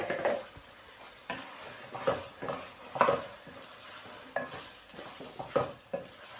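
Half a kilo of cut potatoes is stirred and fried in a spice masala for aloo methi, with quiet, irregular spatula scrapes and light sizzling arriving in short bursts every second or so.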